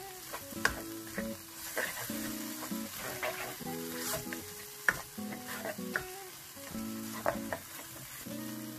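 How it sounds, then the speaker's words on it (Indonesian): Food frying in a pan, a steady sizzle with occasional clinks and scrapes of a utensil stirring, close up and without talk. "Goreng sekitar 3 atau 4 menit."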